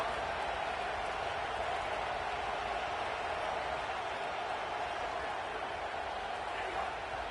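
A stadium crowd in a college football video game, Kentucky against Alabama, keeps up a dense, continuous roar that holds at steady loudness throughout.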